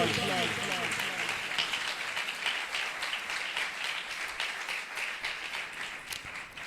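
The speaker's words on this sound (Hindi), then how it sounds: "जोरदार तालियां खुदा के जलाल के लिए।" A church congregation applauds at a worship service, dense continuous clapping close and loud that slowly thins toward the end.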